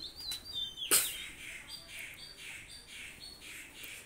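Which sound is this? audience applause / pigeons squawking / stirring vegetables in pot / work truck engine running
pigeons squawking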